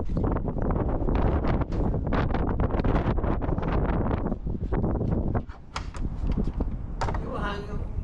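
Strong gusts of wind at a summer house in Flúðir, Iceland buffet the microphone with a loud, continuous rumble, easing briefly before picking up again.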